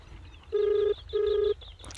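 An outgoing call to a contractor rings back as two steady, buzzing tone bursts with a short gap between them, heard outdoors over low background rumble.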